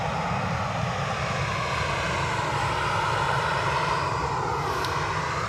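A Ryanair jet airliner with darkened windows at Edinburgh Airport gives a loud, steady engine roar with a sweeping tonal whine that shifts slowly, holding constant throughout with no voices.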